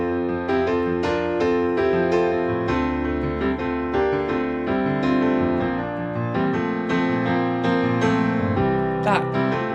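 Piano played continuously through a chord progression, with rippling notes moving around within a single chord to give a flowing, fluid motion. Steady and fairly loud, no speech.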